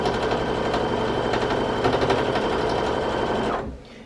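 A sewing machine runs steadily at a fast, even pace while stitching quilt sashing, loud and close, then winds down and stops just before the end.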